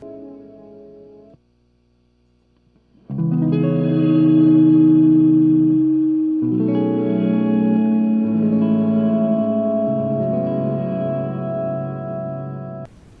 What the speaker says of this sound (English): That reverses your reverb.